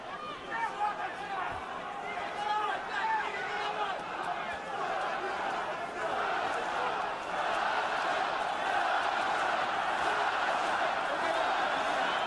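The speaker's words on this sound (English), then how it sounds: "Russian crowd trying to lift Povetkin" A Russian boxing crowd roars and cheers for Povetkin during a heavyweight title fight against Wladimir Klitschko, a dense, sustained wall of distant arena noise throughout with no break.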